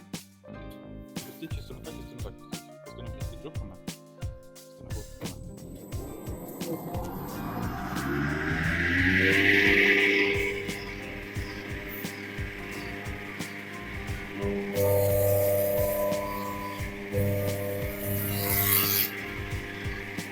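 An STvega Belt Cutter industrial vegetable cutter slices leek at 4 mm. The motor whirs and rises into a loud rasping, grinding cut, then settles into steady mechanical running with scraping bursts.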